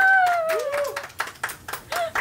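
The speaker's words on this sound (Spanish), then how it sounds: "¡Un aplauso!" A voice speaks briefly at the start, then a handful of sharp, scattered claps follow in an uneven rhythm, close and moderately loud, from what sounds like a small group.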